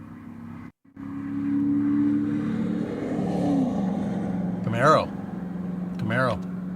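At Starbase, a Chevrolet Camaro engine drones and revs steadily in the background while people talk over it, with the engine note rising slightly midway.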